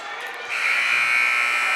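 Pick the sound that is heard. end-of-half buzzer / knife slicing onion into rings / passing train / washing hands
end-of-half buzzer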